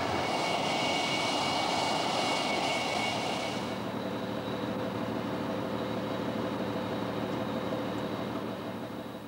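Jet engines of an English Electric Lightning fighter roar loudly and steadily, a broad high-pitched whine and rumble that drops in pitch after a few seconds and then holds a sustained drone with no voices.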